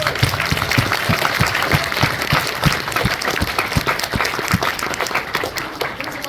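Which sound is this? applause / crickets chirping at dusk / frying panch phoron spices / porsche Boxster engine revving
applause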